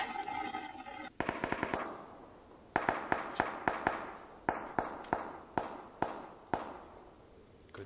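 Gunfire in PUBG: an opening rapid burst followed by a steady series of sharp, loud single shots spaced roughly every half second, close and dry, with no voices.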